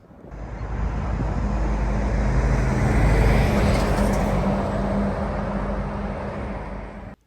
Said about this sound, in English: it's even worse now with the highway and plenty of cars